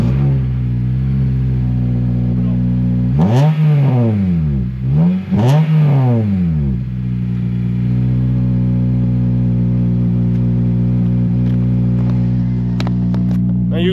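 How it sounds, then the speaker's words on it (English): A Honda Civic engine idles, then is revved twice in quick rising-and-falling sweeps through its exhaust before settling back to a steady idle, loud and close with no talk. "It is a nice sounding Civic. I'll turn it on so you can listen. I'll turn it on. I'll rev it."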